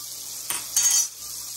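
Butter being worked into flour with a spoon in a bowl, a few soft scraping and stirring strokes, close and fairly quiet, with no talk.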